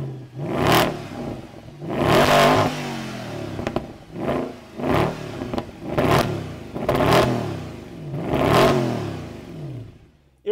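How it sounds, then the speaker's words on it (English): A 2011 Mercedes E63 AMG, a 500-horsepower super sedan, revs up hard in about six loud, close bursts, each engine roar rising and falling away before the next. "Irresponsibly revved up"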